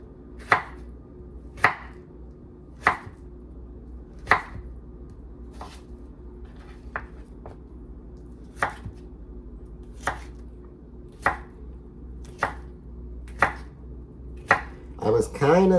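A knife chops the last of a cucumber on a board for shrimp ceviche: about a dozen crisp, evenly spaced chops, close and moderately loud, with quiet pauses between them.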